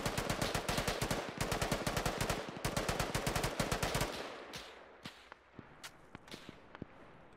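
Sustained automatic gunfire in a large Arma 3 battle, loud rapid bursts for about four seconds that break into scattered single distant shots and echoing cracks.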